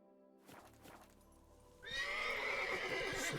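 A horse in the video game Witcher 3 gives a couple of soft snorts and hoof sounds, then breaks into a loud, drawn-out whinny that carries to the end.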